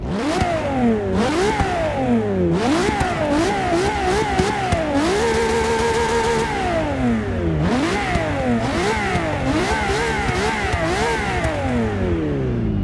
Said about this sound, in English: First up is the Ferrari LaFerrari, or should I say in James May's case